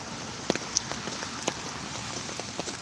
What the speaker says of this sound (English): So it is raining out here, y'all.